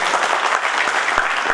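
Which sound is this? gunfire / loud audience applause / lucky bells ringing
loud audience applause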